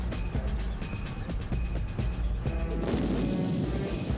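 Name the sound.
artillery firing a Copperhead round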